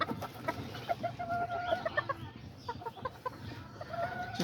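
Chickens cluck and a rooster calls in a backyard pen, a busy mix of short clucks and squawks at moderate distance, fairly quiet overall.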